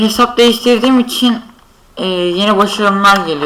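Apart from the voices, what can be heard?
None of the usual background noises is heard.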